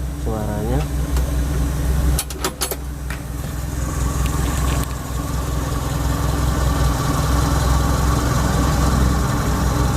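A used car's engine idles smoothly, a steady low hum heard up close throughout, with brief clicks and handling noises early on and a voice talking over it.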